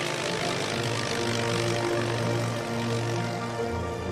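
Propeller airplane flying overhead, a steady loud droning engine hum with a low pulsing throb that holds throughout, with no voices.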